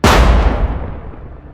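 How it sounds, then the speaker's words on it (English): A Russian armored vehicle loaded with munitions, hit by a drone, blows up in one loud, close blast whose deep rumble fades over about a second. "the attacks lead to massive explosions"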